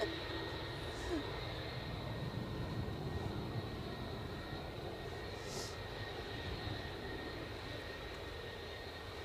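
A distant aircraft engine roars steadily as it takes off at Edinburgh Airport, a faint, continuous drone.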